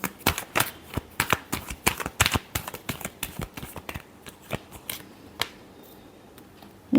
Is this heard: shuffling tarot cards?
yes